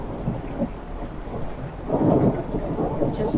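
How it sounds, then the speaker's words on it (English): Thunder rumbles through a thunderstorm during flooding at a South African beach, with a steady hiss of rain and a deeper swell of rolling thunder building midway. "Wow, I just love the sound of thunder."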